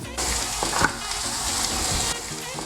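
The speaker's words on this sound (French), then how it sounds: "là je fais brunir les oignons." Onions browning in a hot pan for lasagna, a steady close sizzle and frying hiss with a few stirring scrapes, continuous and fairly loud, with no one speaking.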